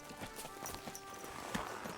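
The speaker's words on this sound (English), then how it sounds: "Horse." Horse hooves clip-clop in Kingdom Come: Deliverance II, a steady walking rhythm of close, distinct hoofbeats with no talking.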